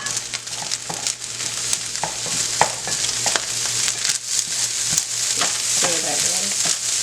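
Beaten eggs stirred in a hot frying pan, a loud continuous sizzle broken by frequent scraping and tapping of the utensil against the pan, close up.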